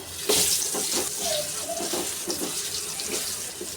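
Pumpkin pieces hit hot oil in a wok and start frying, a loud rushing sizzle that rises suddenly and keeps hissing steadily with small bubbling pops.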